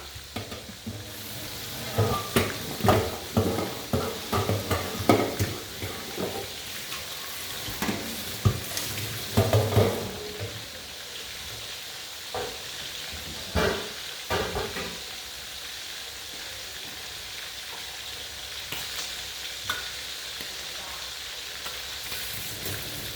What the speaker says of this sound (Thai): ทอดหมูแดดเดียว